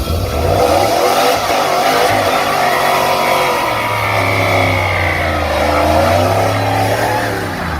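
A Ram Hellcat truck's 6.2-liter supercharged-style V8, rated 707 horsepower, revs loudly and close, its deep engine note rising and falling through several throttle blips without any talk over it.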